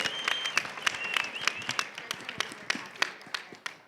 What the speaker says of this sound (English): a huge round of applause, as always, for our AV crew in the back making all this happen